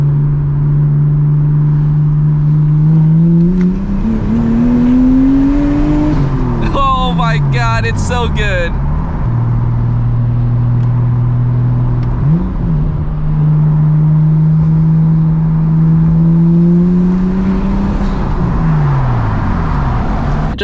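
A loud straight-piped Nissan R34 Skyline engine revs and accelerates hard with a raw, throaty exhaust, pitch climbing then dropping between gears, while someone talks excitedly over it.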